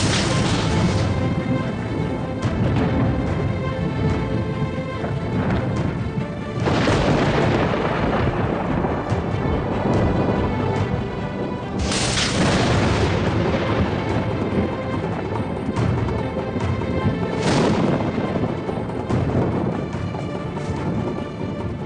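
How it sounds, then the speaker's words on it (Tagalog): Unusual thunder in a dubbed fantasy drama: a continuous loud roar with repeated heavy booming rumbles and crashes rising every few seconds, no voices. "Ang kulog na yan ay hindi po pangkaraniwan."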